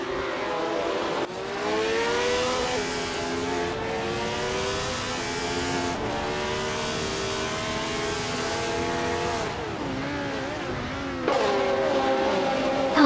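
A 1971 Ferrari 312 race car screams around Daytona in a racing video game, its engine a sustained high-pitched wail with gear-shift breaks and pitch sweeps, loud and continuous with no talk.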